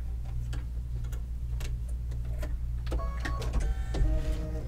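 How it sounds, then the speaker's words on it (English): A computerized embroidery machine stitching out lettering on a quilt block, a steady close mechanical hum with rapid rhythmic ticking of the needle and occasional higher whirring as the hoop shifts, no talking. "So now it's just gonna stitch out the lettering."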